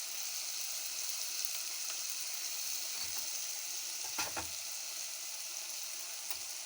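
Raw mango pieces fry with turmeric in a pan, giving a steady, fairly quiet sizzle throughout, with a couple of faint stirring scrapes near the middle.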